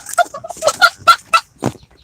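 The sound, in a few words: chickens clucking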